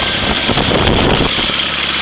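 HKS aircraft engine on a test stand idling at about 2,000 RPM, a steady close drone with a faint wind-like rush over it.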